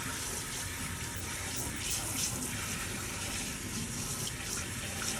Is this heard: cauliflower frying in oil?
no